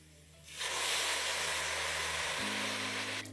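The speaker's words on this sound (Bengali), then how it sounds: "এই স্টেজে আমি এবার দিয়ে দেবো পরিমাণ মতো জল।" Water is poured into a pot of fried rice and lentils for chicken khichdi, starting as a sudden loud hiss and sizzle that holds steady for about three seconds before cutting off abruptly.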